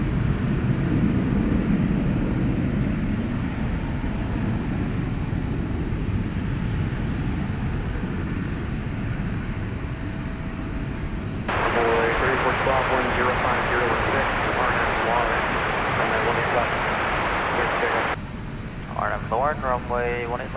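Airbus A321 of American Airlines taking off at night at Dallas/Fort Worth airport, a loud, steady broadband jet roar that holds for the full length, with a brighter whining tone appearing partway through and voices talking over it near the end.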